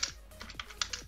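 Fingers typing on a computer keyboard, a quick, irregular series of about half a dozen soft clicking keystrokes, faint and close, with no voices.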